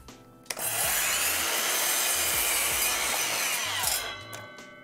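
A hand saw cuts along a kerf line in wood, giving a steady, loud rasping stroke that runs continuously for several seconds before tapering off.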